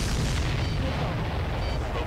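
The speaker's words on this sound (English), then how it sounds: "The missile hit the supply ship dead on." A missile strikes a supply ship in the Ace Combat 7 video game, a sustained, heavy rumbling explosion that stays loud and dense through the short moment.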